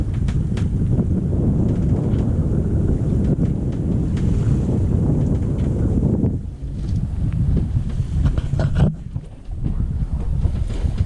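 Wind buffets a sailboat at sea in about 12 knots of apparent wind, a loud, steady rumbling roar with gusty dips and faint splashing of water.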